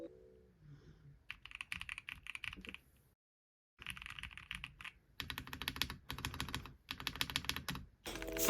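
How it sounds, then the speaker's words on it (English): Someone types on a Montech MKey Pro 75% keyboard in a white setup, producing quiet, close clicky keystrokes in uneven bursts separated by brief pauses, ending with a louder flurry of strikes. No voices. "the keyboard itself, especially the spacebar, sound really nice"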